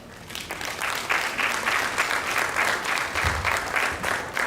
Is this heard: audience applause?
yes